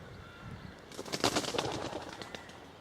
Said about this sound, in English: as a pigeon evacuates the hedge.